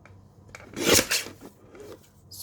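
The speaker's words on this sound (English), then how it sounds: "now I'm going to trim this down to 3 inches" A paper card is trimmed down to 3 inches, giving a brief, close rasping slide of the cutter through the card, then soft rubbing as it settles, with no talking.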